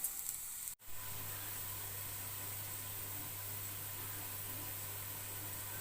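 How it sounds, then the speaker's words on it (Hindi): Chopped onions browning in a pan for mutton korma, a steady close sizzling hiss that runs on without a break after one brief dropout near the start. "अब प्याज को मैं ब्राउन कर लूंगी।"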